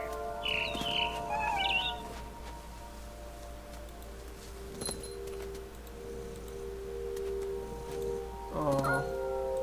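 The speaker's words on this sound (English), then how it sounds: "Then I heard chirping outside my window." A few short bird chirps and twitters in the video game What Remains of Edith Finch sound in bursts near the start and end, over a quiet steady hum with occasional clicks.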